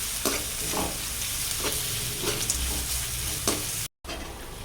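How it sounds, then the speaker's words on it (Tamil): Salted onions frying in a pan: a steady close sizzle, with the spoon scraping across the pan in repeated strokes about once a second, then a brief cut to silence before the sizzling resumes. "சால்ட் ஆட் பண்ணிட்டு இதை நல்லா மிக்ஸ் பண்ணி எடுத்துப்போம்"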